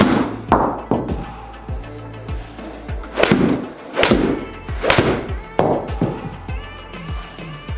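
Golf shots struck with a 6.0 flex shaft, heard as a series of sharp, close impact thumps spaced a second or so apart, each with a brief ringing decay, with no voices.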